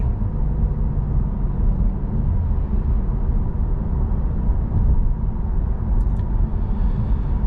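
Inside a 2024 Cadillac CT5-V on the move, a steady low tire hum and road rumble fill the cabin, constant and muted, with no voices and only a brief faint chirp near the end.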